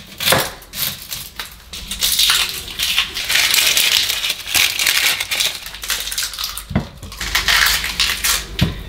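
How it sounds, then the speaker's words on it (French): Knife slicing onions on a cutting board, a dense run of crisp crunching chops and board knocks, close and continuous with brief gaps. "on va maintenant émincer nos oignons"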